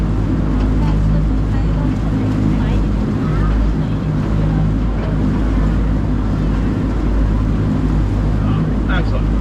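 An amphibious duck boat's engine drones loudly and continuously on the Charles River, with wind buffeting the microphone and water noise throughout.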